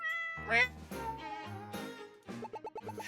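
A cat meows in the Paper Perjury video game, giving a couple of clear meows followed by a short run of quick musical plinks, with no talking.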